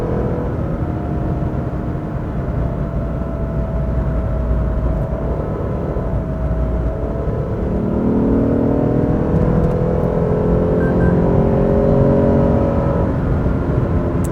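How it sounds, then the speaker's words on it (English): A Lexus RC F V8 exhaust drones loudly and steadily throughout while driving at speed, with a swell of revving about halfway through that holds to the end. "let me know what do you think about the V8 sound"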